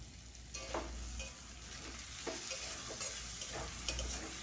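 Vegetables, including snake gourd, are stirred in a hot pan. A soft, steady sizzle runs under repeated scraping strokes of a spatula, fairly quiet and close, with no voices.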